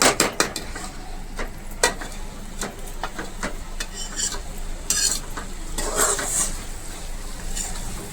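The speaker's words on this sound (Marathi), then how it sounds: "तर आता आपल्याला शिजू द्यायचे भेंडी" Okra (bhindi) cooking in a pan for a Marathi-style bhindi fry with curd, with stirring scrapes and clinks over a steady low sizzle, close and fairly loud.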